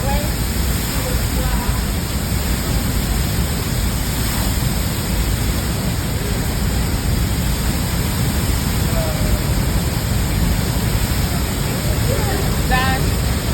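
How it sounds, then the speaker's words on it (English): Niagara Falls roars as a constant, dense broadband rush of falling water, loud and unbroken throughout, with faint voices occasionally audible under the noise. "Niagara Falls"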